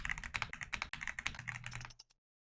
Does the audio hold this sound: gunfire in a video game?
no